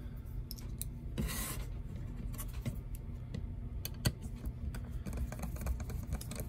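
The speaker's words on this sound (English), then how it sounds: "let me just grab a screwdriver here and take that off" A screwdriver backs screws out of a 3D-printed bracket on a BlueSCSI device, making quiet, close scraping and rubbing with small ticking clicks, steady throughout with no speech.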